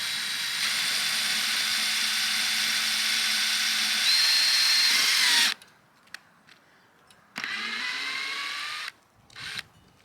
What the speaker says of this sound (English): I can just screw in a screw and I don't have to fumble with trying to get it to start